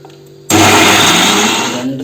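Mixer grinder whirring loudly as it blends a green marinade paste with curry leaves for duck barbecue, starting abruptly after a faint hum and spinning steadily to the end.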